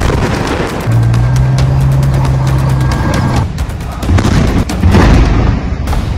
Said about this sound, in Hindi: इजराइल का तोप से हमला।